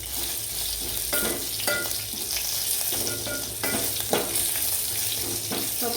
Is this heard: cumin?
yes